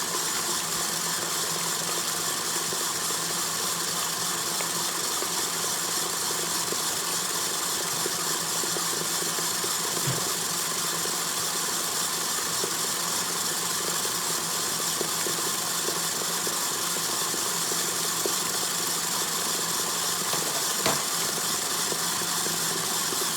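Electric mixer whipping sponge cake batter, a steady, moderate motor whir running continuously and evenly, with a couple of faint clicks, close at hand and alone.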